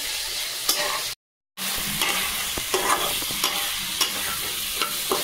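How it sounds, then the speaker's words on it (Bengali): Spiced chicken masala is sautéed and stirred in a hot pan, with a continuous sizzle and periodic scraping clicks of the spoon, broken by a brief moment of silence. "মশলাটা ভালো করে একটু কষে নেব"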